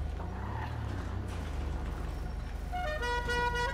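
A Karin Sultan car idles in GTA Online, its engine rumbling under a short, tuned horn that sounds in a few quick toots near the end, close and clear.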